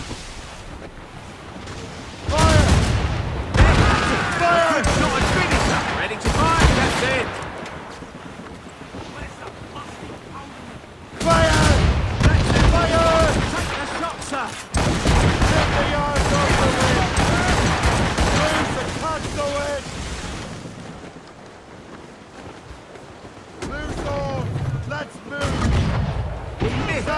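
Heavy cannon and mortar fire booms in a naval battle in the Assassin's Creed Rogue video game. Loud blasts arrive in several bursts over wind and sea noise, with shouted crew voices between the volleys.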